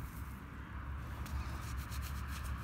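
A metal detectorist in the UK rubs dirt off a freshly found 2 pence coin, a steady close scratchy rubbing over outdoor background noise and wind rumble, with no talking.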